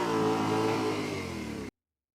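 Yamaha Tenere 700 adventure motorcycle engine revving under throttle, a loud, steady close-up drone with sustained harmonics that cuts off abruptly near the end.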